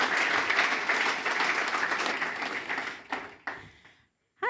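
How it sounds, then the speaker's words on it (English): Conference audience at a front-end design event in Zurich applauding a speaker, dense sustained clapping that gradually thins out and trails off into a few scattered claps and near silence. "please give a very warm applause for Jina Bolton"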